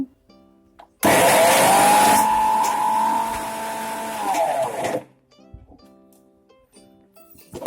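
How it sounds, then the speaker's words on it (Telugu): An electric mixer grinder grinds ginger, garlic and spices into paste, whirring loudly for about four seconds, its motor pitch sliding slightly as it grinds, then cuts off to quiet. "ఆ తర్వాత ఇవన్నీ కలిపి మిక్సీ పెట్టేసుకోండి, బాగా గ్రైండ్ చేసుకోండి మెత్తగా."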